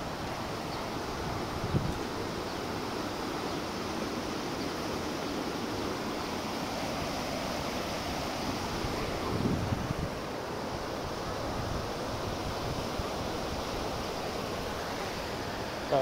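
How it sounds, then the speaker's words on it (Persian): A mountain river on a spring hike at Darabad, flowing in a steady broadband rush that continues unbroken for sixteen seconds, moderately loud and close, with no voices. "به نظرم هیچ صدای قشنگتر از صدای جریان آب نیست، اونم تو رودخونه"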